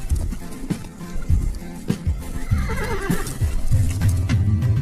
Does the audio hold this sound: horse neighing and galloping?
yes